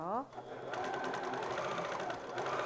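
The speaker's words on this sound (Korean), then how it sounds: "조금 천천히 꼼꼼하게 바느질 해줄게요." A sewing machine stitches heavy stretch velvet fabric, running steadily at close range after a brief moment of a voice at the start.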